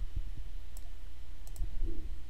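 Computer mouse clicks while drawing an eggplant in Adobe Illustrator, a few short, quiet clicks spread across the moment over a low steady room hum, with no talking.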